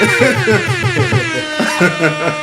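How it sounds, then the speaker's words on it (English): Loud blaring air horns honk in rapid, overlapping bursts with shifting pitch, mixed with voices, close and chaotic. "Lots of air horns for you!"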